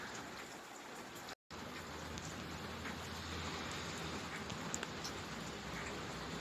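Spring rain falls outdoors as a steady, even hiss of drops with no let-up, broken only by a brief moment of silence near the start.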